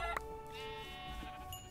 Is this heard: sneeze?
no